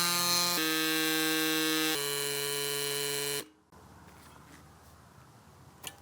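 A Cycplus AS2 Pro portable tire inflator runs close by with a steady, loud motorized drone for about three and a half seconds, then cuts off, leaving faint background noise and a small click near the end.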